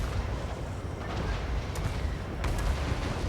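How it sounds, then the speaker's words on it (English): Rapid rocket barrage from Hellstorm rocket batteries in Total War Warhammer 3, a dense, steady rumble of launches and distant impacts with a couple of sharper cracks, no voices. "These Hellstorm rockets aren't really hitting what I want them to hit, unfortunately."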